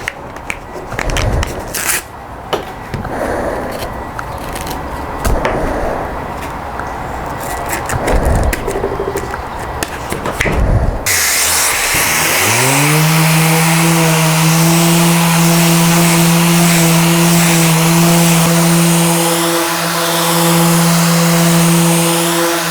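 A random orbital sander runs steadily on wooden river table boards, starting after a stretch of clattering workshop noise and then holding a loud, even drone to the end.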